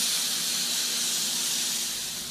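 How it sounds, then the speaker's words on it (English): Chicken wings fry on an Arteflame griddle insert on a Weber grill, giving off a loud, steady, continuous sizzling hiss. "We're going to do some straight up frying on these wings today on this Arteflame."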